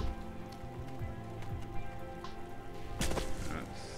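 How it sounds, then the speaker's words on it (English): Rain falls in the StarForge video game, a steady patter of drops mixed with game ambience and some low engine-like hum, with a brief louder burst near the end. "Is it starting to rain?"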